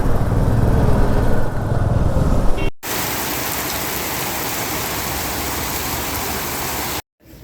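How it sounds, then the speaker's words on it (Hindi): Rain falls steadily during a motorcycle trip on the mountain road from Manali to Keylong in Ladakh. A broad, even hiss of rain and wind noise holds loud and close throughout. A brief cut comes near the middle. "बारिश आ गई है"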